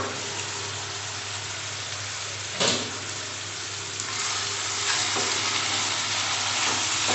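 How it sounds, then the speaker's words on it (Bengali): Spiced chicken chaap frying in a pan, a steady close sizzle with faint stirring scrapes and a sharper burst partway through, no voices. "দেখুন মাংসটা অনেকটাই কষানো হয়ে গেছে"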